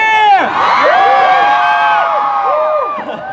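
Large K-pop concert crowd at KCON LA 2018 screaming loudly and continuously, with high-pitched shrieks and whoops sweeping up and down throughout, fading slightly at the end.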